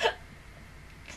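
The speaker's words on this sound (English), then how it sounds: "Oh, God, I hate when I hiccup." A single quick hiccup from a man reacting to an anime episode, a short sharp burst at the start followed by faint room noise and a soft trailing breath.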